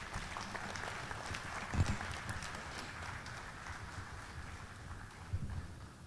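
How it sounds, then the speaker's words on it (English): Auditorium audience giving a round of applause for a speaker at a leadership program, a fairly soft, steady patter of clapping heard from some distance with a couple of louder claps. "By a round of applause for him."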